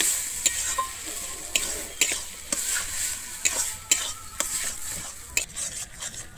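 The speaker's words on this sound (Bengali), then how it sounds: "কিন্তু খুব ভালোভাবে এরকমভাবে নাড়তে থাকবো, নাহলে কিন্তু তলায় লেগে যাবে।" A spatula scrapes and stirs pointed gourd bhorta, a Bengali-style mash, in a frying pan, making rhythmic scraping strokes about once a second over a soft sizzle, close and alone.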